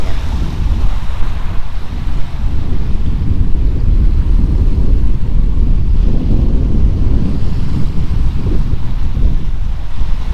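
Wind and waves rushing past a sailboat under sail, a loud, continuous low roar with wind buffeting the microphone and no voices.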